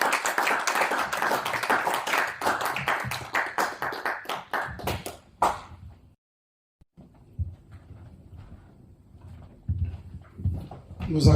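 Congregation at a French-language wedding service claps in a fast, dense rhythm for several seconds, ending abruptly; after a brief pause, scattered quieter claps and murmuring voices follow.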